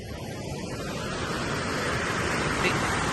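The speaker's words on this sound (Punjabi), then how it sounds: "ਸਾਰੇ ਦੇ ਸਾਰੇ ਪੁਲਾਂ ਦੇ ਵਿੱਚ ਪਾਣੀ ਹੈ ਜਿਹੜਾ ਪੂਰਾ ਚੱਲ ਰਿਹਾ ਹੈਗਾ" Ghaggar river water flows through the siphon bridges at Chandpura, heard as a continuous rushing roar that swells slightly toward the end, with no clear talk.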